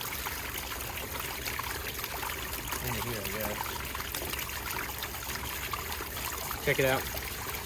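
Water pours off wet paydirt in a steady trickling stream, heard close over continuous outdoor background, with someone talking briefly partway through.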